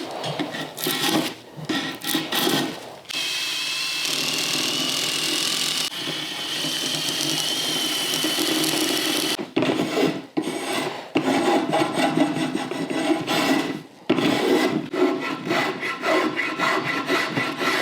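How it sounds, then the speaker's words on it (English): A power-driven wire wheel scrubs soft edge wood from a board for a charcuterie piece, making a loud harsh rasping whir in long passes broken by short pauses. "I'm gonna try a wire wheel today."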